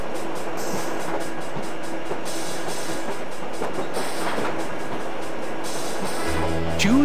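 Train rolling continuously in The Amazing Spider-Man: Countdown to Doom, a loud rumbling clatter of rail transport carrying on throughout, with a squealing tone near the end.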